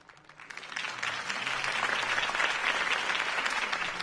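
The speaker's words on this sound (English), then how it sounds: "If only Mr. Wayne, my campaign's largest backer, could have heard that applause" A crowd breaks into applause after a campaign speech in a Batman video game, rising quickly from scattered claps into a dense, steady roar of clapping that stays loud to the end.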